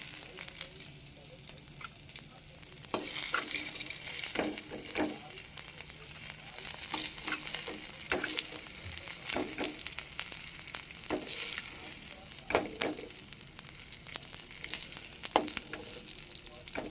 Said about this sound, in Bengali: আমার ঢেঁড়স ভাজা হয়ে গেছে